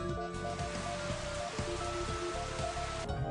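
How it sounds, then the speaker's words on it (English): Steady rain patter with a soft melodic tune playing alongside, fairly close and even throughout, from the rain weather sound effect on a Wii console. "if the weather displayed is rain, you hear a rain sound effect"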